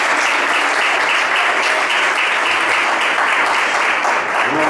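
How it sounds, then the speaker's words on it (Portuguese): Congregation applauding in praise during an evangelical church sermon, a steady, loud wash of dense clapping that holds evenly from start to finish with no voices over it. "pode aplaudir ao nome do Senhor por essa palavra"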